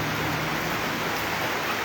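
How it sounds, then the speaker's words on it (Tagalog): Rain pours down in Alicia, Isabela, a dense, even hiss that fills the whole stretch with no voices. "Umulan pa dito sa Alicia ngayon."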